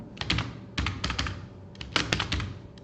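Someone types data on a computer keyboard into an MS Word document, producing close, crisp key clicks in quick clusters separated by short pauses.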